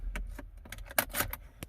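Honda car keys jangle in a quick series of bright metallic clinks as they are put into the ignition of an Acura TL, close and clear with no talking.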